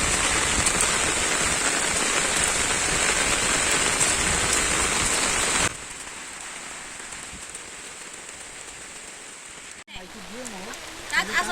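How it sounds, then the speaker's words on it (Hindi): Heavy rain pouring outdoors on the way to a waterfall, a loud dense steady hiss that drops to a softer, more distant wash partway through, with a few faint close sounds near the end. "बारिश काफ़ी तेज़ हो चुकी है"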